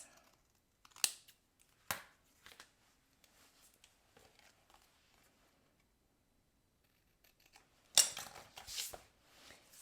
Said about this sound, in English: Cut away any excess.